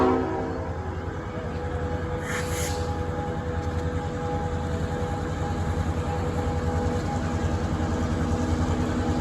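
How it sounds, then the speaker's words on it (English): A passenger train heading back to Unity, Maine rumbles steadily along the track, with a constant low hum and a brief higher hiss partway through, no talk over it. "Train's going back to Unity to get more passengers."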